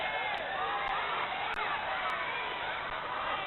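Crowd at a wrestling bout cheering and shouting in a continuous, muffled roar, with a few faint sharp clicks on top.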